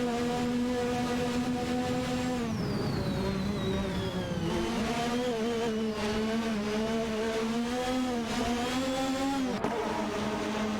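Race cars, including a McLaren MP4 and a Dallara 3087, drone through an AI racing video game with a loud continuous engine whine that rises and falls as they shift and accelerate.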